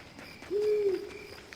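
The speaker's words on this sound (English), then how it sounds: "The sound of those owls, though," A single low, smooth owl hoot rises and holds for about half a second in a nighttime scene of the game Tales of Zestiria, set against a faint hiss of insects in the background.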